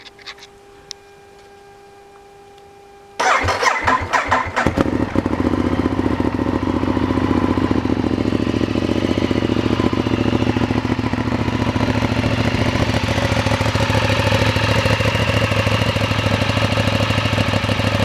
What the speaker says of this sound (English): So we'll start her up for you.